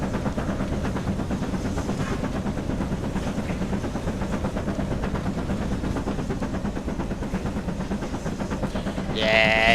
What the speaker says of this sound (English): now that's what I call a train.